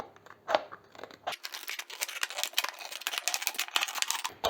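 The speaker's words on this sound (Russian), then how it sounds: "А продолжу уже ножницами." Scissors snip through a plastic bottle in a quick run of sharp cutting crunches and crackles, close and alone, after a couple of isolated clicks.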